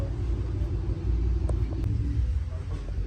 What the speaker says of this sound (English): the car's now on the dyno